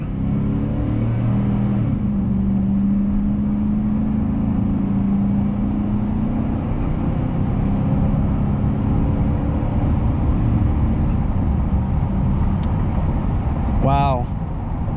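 2004 Chevrolet Silverado 1500 pickup with 200,000 miles driving on the road, a steady loud engine drone and road rumble heard from inside the cab, with no break throughout.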